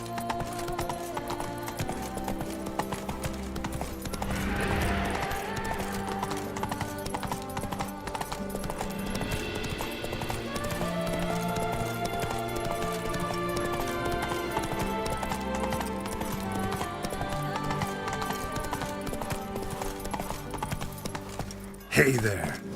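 Hooves of the horse in the video game The Witcher 3 trot in a steady clip-clop under game music and ambient sound, with a brief whinny and speech heard along the way.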